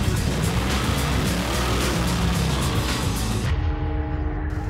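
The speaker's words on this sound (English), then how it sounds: "my 1969 Plymouth Barracuda 360 engine, Edelbrock carburetor" A 1969 Plymouth Barracuda with a 360 engine and Edelbrock carburetor roars loudly and steadily at close range, a dense continuous engine rumble that cuts off abruptly near the end, leaving a quieter tone.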